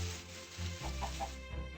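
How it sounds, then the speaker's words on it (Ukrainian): A chicken in Minecraft clucks a few soft times against a low background hum, fairly faint and close. "Так, чую курку."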